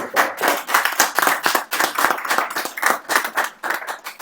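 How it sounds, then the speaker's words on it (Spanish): A crowd claps in a dense, sustained burst of applause, steady and fairly loud, with no voices over it. "Entonces yo pido un aplauso, por favor."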